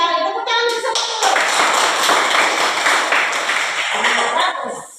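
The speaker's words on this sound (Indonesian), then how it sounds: "Tepuk tangan bersama dulu." Schoolchildren in an Indonesian classroom clap together on their teacher's cue, a loud rapid patter of many small hands sustained for several seconds before stopping abruptly.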